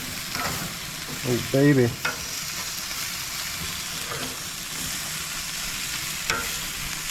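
Chicken wings sizzle on a grill after being flipped for a second char, a steady hiss throughout with a brief louder burst as someone speaks a short exclamation.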